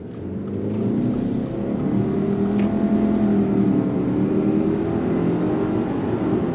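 Turbocharged engine of a 2024 Subaru Ascent Onyx Edition midsize SUV under throttle, a steady loud drone with a low rising tone that holds for several seconds, heard from inside the cabin with no talking.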